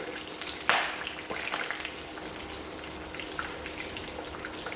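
Battered fish frying in oil on a small induction cooker set to 180 degrees, a faint steady sizzle and crackle with a few brief sharper pops.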